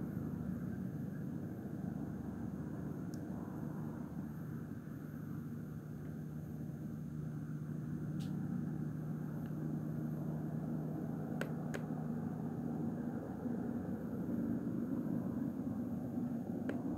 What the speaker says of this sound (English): And there's another airplane, though.